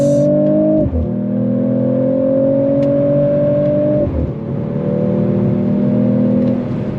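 Mercedes-AMG CLE 53 coupe in Sport Plus mode accelerating hard with manual paddle shifts, a loud continuous engine note rising in pitch, dropping briefly at two quick upshifts, then climbing again.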